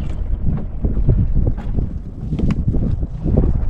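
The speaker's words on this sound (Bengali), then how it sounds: "একটা নৌকা যাচ্ছে বাইরে দিয়ে" Low rumbling drone of a boat far off at sea, steady and continuous under gusty wind buffeting the microphone, with no voices.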